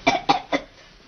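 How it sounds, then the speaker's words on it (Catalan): Three quick, close coughs come in a tight, even burst from a young man, then fade into quiet room tone. "Què és aquesta tos?"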